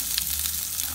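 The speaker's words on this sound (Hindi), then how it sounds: "हमारी मूंगफली भून चुकी है।" Peanuts roasting in a pan over a slow flame, giving a steady close sizzle and faint crackle with no talking.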